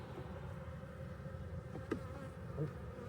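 Honeybees hum steadily during a beehive inspection, a dense, continuous buzz close by with a few brief louder passes of individual bees.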